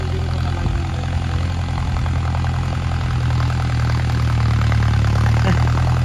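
A farm tractor engine runs steadily at a low idle, a loud, continuous diesel rumble with a constant throbbing drone that fills the whole stretch without any voices.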